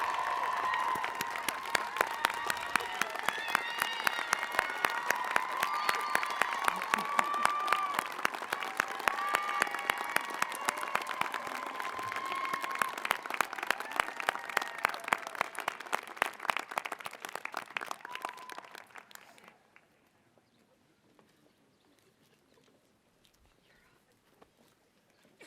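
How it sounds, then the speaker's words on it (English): A large commencement crowd at Saint Mary's College applauds the valedictorians, steady dense clapping sustained for about twenty seconds before tapering off abruptly into near quiet. "Please join me and give them a warm round of applause to our valedictorians."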